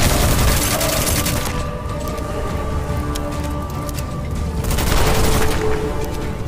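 Rapid automatic gunfire from the video game Witchfire, a dense continuous burst of shots with booming impacts, loud and steady throughout with no talking.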